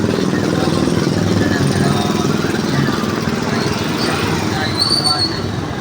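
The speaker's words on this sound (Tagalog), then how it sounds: "puro ingay na sasakyan" Manila city traffic rumbles continuously, car and motorcycle engines droning in a dense, loud wash of roadway noise with occasional louder passing vehicles and a voice talking faintly.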